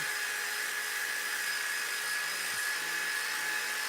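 A power sander runs steadily with a loud, close, high-pitched whine and an even grinding hiss throughout, with no talking.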